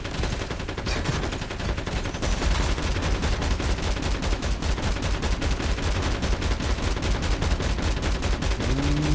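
Automated turrets fire continuous rapid bursts in a zombies match of the mobile shooter Call of Duty Mobile, a dense, loud, unbroken stream of gunfire.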